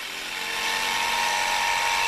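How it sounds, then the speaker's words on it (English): A power drill bores an access hole through wood for a saw blade, a steady whirring drone held close and loud throughout, rising slightly in intensity after the start. "Drill an access hole for the saw blade"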